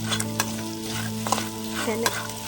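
Sprouted chickpeas fry crisply in a pan as a spiced tempering, steady sizzling with scraping stirs of a spoon, close and continuous with no talk.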